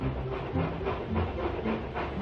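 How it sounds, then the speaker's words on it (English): A steam engine puffs and hisses with a rhythmic chuffing over a heavy rumbling, fairly close and continuous throughout. "James and Edward puffed into the yard"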